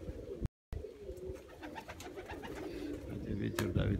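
An older pigeon cooing outdoors, its low, repeated coos set against steady wind noise and rustling.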